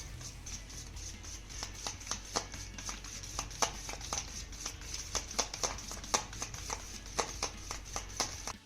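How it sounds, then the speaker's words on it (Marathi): Curd (yogurt) is whisked by hand in a large bowl, giving a quick run of soft, irregular tapping and slapping strokes, faint and close, with no voices. "अगोदर ह्या दह्याला ना मस्त असं फेटून घ्यायचंय"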